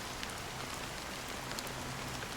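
Steady in-game rain in Honkai Star Rail, a dense, even hiss of drops falling on surfaces throughout, fairly quiet with no voices.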